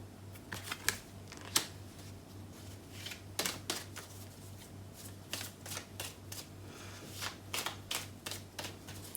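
Tarot cards are shuffled by hand close up in a steady run of soft riffles and slaps, each a quick papery flutter, repeating irregularly over a low hum with no talking.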